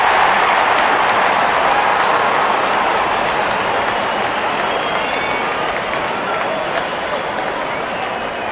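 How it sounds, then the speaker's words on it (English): A large crowd at a cricket match gives a steady wash of cheering and applause as the opening batsmen walk out. The roar is loud and sustained, with scattered sharper claps on top. "cheered by a good crowd in"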